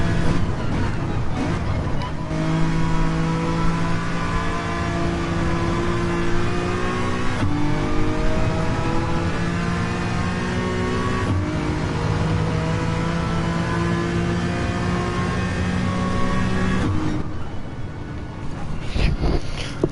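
Subaru race car engine in Gran Turismo 7 revving steadily through its gears for about twenty seconds, loud and close, with a brief shift break near the end.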